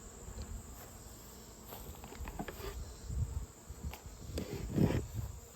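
Around a beehive during late-summer beekeeping, bees drone in a steady, faint buzz over outdoor background noise, with occasional brief, louder flyby swells and no talk.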